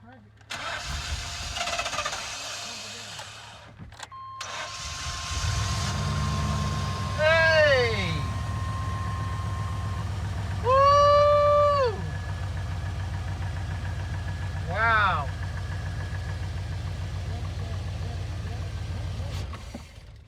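Old truck engine cranking over, then catching and settling into a rough, steady idle with a low rumbling drone. Several rising whistle-like tones cut in briefly over the running engine, and people talk nearby throughout.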